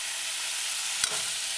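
Codfish and mushrooms hit sautéed onions in a hot pan, making a continuous bright sizzle with a short sharp crackle burst partway through; no voices.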